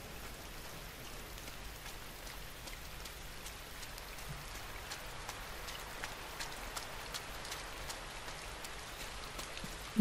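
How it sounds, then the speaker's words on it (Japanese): Steady rain falls in the video game INSIDE, a dense even hiss with scattered droplet ticks, constant and close throughout with no voices. "うわ、雨だ、"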